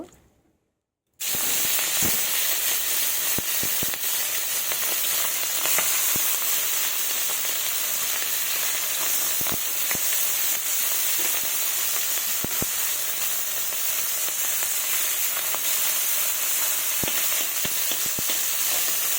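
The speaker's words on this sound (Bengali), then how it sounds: "এবার আমি মাছগুলো ভেজে নেব" Loud, steady crackling sizzle of small fish frying in hot mustard oil, starting abruptly after a second of silence and continuing with sharp pops throughout.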